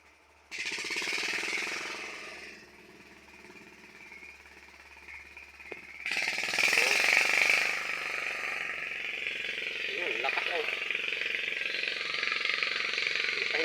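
Engine of an irrigation water pump running in a corn field, a faint steady mechanical drone that swells louder partway through, with rattling bursts and voices talking over it.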